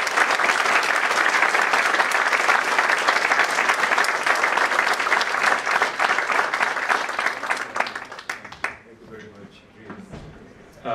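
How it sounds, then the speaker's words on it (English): Thunderous applause fills a lecture hall at the Pune International Centre after a talk on Make in India, dense and loud for about eight seconds before thinning into scattered claps and fading out. "give a thunderous applause"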